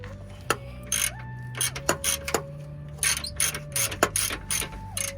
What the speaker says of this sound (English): Didn't try to use this big ass ratchet, but it's the only one I could find.